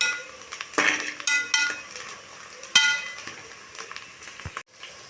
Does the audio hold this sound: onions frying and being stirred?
yes